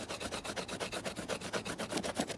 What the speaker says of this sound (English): Scrape my whole hide.